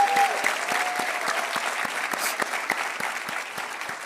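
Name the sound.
audience applause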